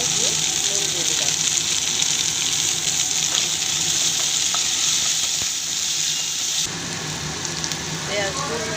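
Two small onions with a pinch of salt sizzle steadily in hot oil in a pan, a loud, close, continuous frying hiss with faint stirring scrapes.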